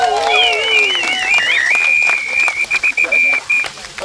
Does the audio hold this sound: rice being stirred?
no